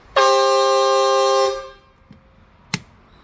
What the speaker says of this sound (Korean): 에어 크락션 모드입니다